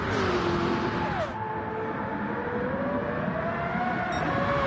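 A race car engine in a racing game on the Sarthe circuit pulls hard under acceleration in third gear, its steady rising drone loud and continuous with gear-change dips, no talking.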